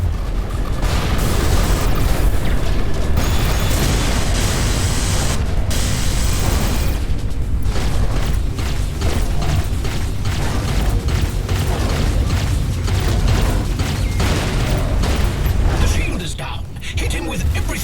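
Missiles launch and detonate in the space-combat game Everspace 2, a loud sustained barrage of booms and bursts with mechanical whirring, dense and continuous throughout, under a synthesized voice announcement and character dialogue.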